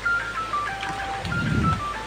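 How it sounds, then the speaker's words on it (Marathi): A phone alarm rings on a walk to a waterfall near Lonavala as a steady sequence of bright electronic tones stepping up and down in pitch. It sits under outdoor rumble and some handling noise, with no talk. "माझा अलार्मही वाजतोय"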